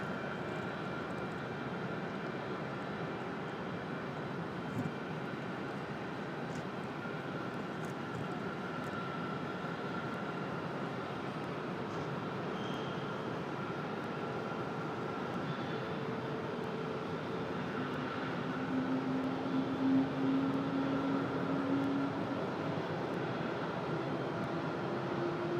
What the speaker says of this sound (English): you hear that A320 starting up down there.